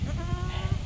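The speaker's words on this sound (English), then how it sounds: "She's a lovely goat." A goat kept in a backyard, where goats graze the grass, gives a short, close bleat with a wavering, harmonic tone that lasts under a second.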